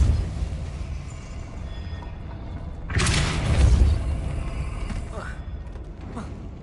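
Depulso force spell cast in the video game Hogwarts Legacy, a sudden whooshing burst with a low thud that swells for about a second amid quiet ambience, trailing into a faint rumble.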